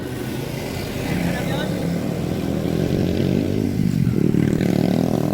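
A motorcycle engine rumbles past nearby under steady traffic noise, rising slightly as it approaches, while a person talks.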